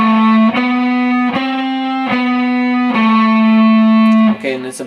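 Distorted electric guitar plays a long, steady run of eighth notes in a solo from a song, each note picked evenly in a bright, sustained line that ends with a brief change of pitch.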